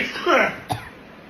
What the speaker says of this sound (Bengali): ছেলের হচ্ছে কাশি